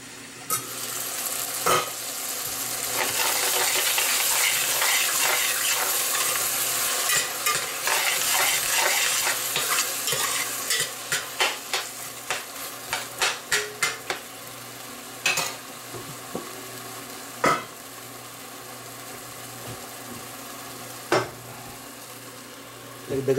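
Tomatoes sautéing in a frying pan while being cooked for a pork belly mung bean dish, with a steady close sizzle and a series of sharp scraping stirs and clinks toward the end.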